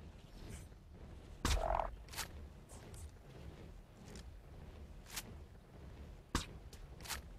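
A frog in the Ark Survival Evolved video game croaks in short, sharp bursts scattered over quiet game ambience, a few louder pops standing out among fainter ones, with no talk.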